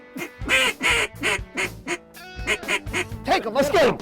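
Gadwall ducks quack repeatedly in a steady run of loud, nasal calls close by on a Louisiana marsh, some overlapping, with people talking quietly underneath.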